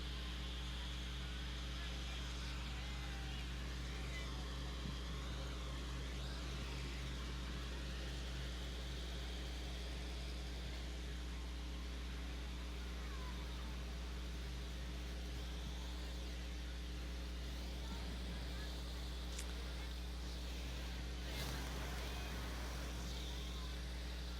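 A 1955 Oliver Super 88 tractor drives along in a small-town parade, its engine giving a steady, low droning hum that holds evenly throughout against outdoor background noise.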